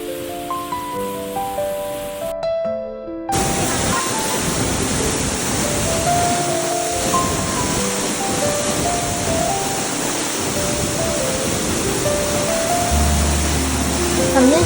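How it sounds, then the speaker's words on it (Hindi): The Kanchenjunga waterfall in Sikkim, fed by a glacier, roars as a dense, constant rush of falling water that fills the clip after a brief stretch of music at the start. "This is a Kanchenjunga waterfall."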